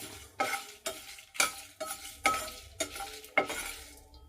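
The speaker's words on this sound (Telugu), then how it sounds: "ఇవన్నీ కూడా డ్రై పాన్లోనే వేయించుకోవాలి మర్చిపోవద్దు ఆయిల్ తగలకూడదు" Spices and cumin seeds dry roasted in a pan without oil, stirred in a steady rhythm: about eight distinct scraping, rattling strokes with a faint dry sizzle between them, close and alone.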